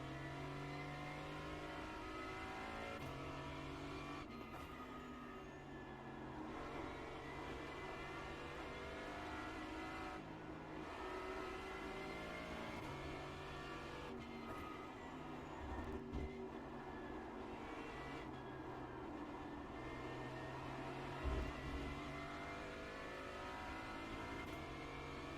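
GT4 race car engine lapping the Charlotte Roval in iRacing, a continuous loud drone that rises and falls through gear changes and braking, with no talk over it.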